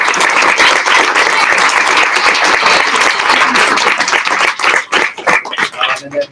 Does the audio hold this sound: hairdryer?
no